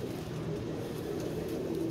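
Pigeons coo steadily and close by, a low continuous murmur of overlapping calls with no voices over it.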